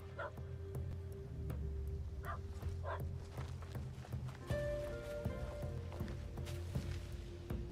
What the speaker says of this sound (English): will someone please silence that damn dog?